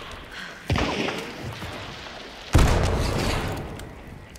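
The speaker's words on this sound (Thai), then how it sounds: "แม่งระเบิดยับ" Explosions in the video game Hunt: Showdown come as two heavy, close blasts about two seconds apart, each a sudden loud boom that trails into a long rumbling decay.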